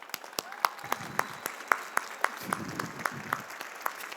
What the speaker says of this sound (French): faire une belle main d'applaudissements pour le chef Nicolas Parcy